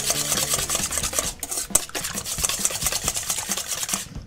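Eggs are whisked briskly in a bowl for a Chinese chew bake, making a fast, continuous rhythmic scraping and clinking that stays loud and close throughout, with one short pause, and no one talking.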